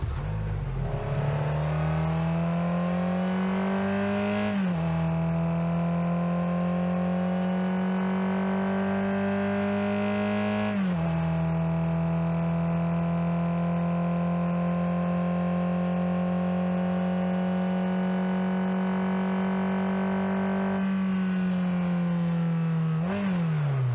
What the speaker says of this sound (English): Here's a full demo of the engine audio in the garage.